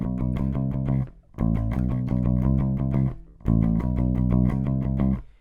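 A bass guitar plays a chorus line, with strong low repeated notes in two phrases broken by a short gap, loud and close, with no talking.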